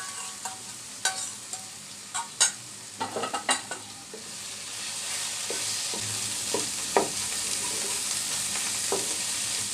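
Beaten egg cooks into mashed flat beans (shim) in a pan, giving a steady soft sizzle with repeated scraping stir clicks and taps, close and moderately loud, with no talk.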